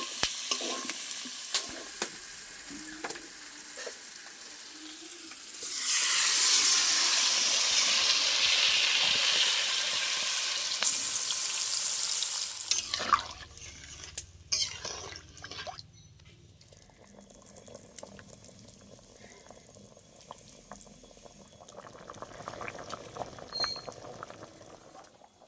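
Water poured into a hot pan of fried spiced yam and potato sets off a loud, sudden burst of hissing sizzle and steam that lasts several seconds, then settles into a quieter simmer with occasional stirring clinks.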